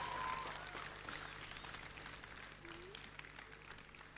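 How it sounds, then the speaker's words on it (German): A youth-camp audience applauds for a group, a soft, distant patter of many hands with a low steady hum underneath and a faint voice now and then. "einen Applaus natürlich für unsere Gruppe"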